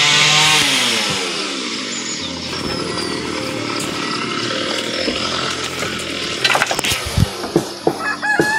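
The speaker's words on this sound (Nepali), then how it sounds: "अगाडि चाहिँ मेसिनले काठ चिरिरहेको छ" A machine saw cuts through wood in a village, a loud, steady buzzing drone that holds for most of the stretch, with roosters crowing and hens clucking nearby and a few sharp knocks near the end.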